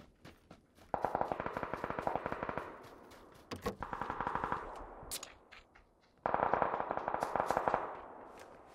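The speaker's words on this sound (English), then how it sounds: "Someone's shooting me south, far away." Gunfire in the battle royale game PUBG: three long bursts of rapid automatic fire, evenly spaced shots rattling off, fairly faint and distant.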